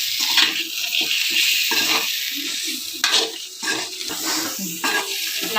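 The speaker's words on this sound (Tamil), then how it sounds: "அந்த முருங்கைக்காவும் அந்த மசாலாவும் நல்லா வதங்கும்" Drumstick pieces and masala sautéing in a pan for murungakkai koottu, with a steady sizzle and the scrape and clatter of stirring throughout, close and fairly loud.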